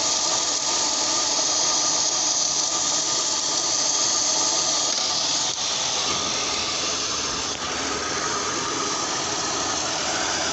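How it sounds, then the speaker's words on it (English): Kia engine idling roughly and stumbling with ignition spark jumping, a steady close mechanical drone with broadband hiss and faint irregular ticks throughout, no talking. "Even though I hear spark jumping, the engine still feels stumbling."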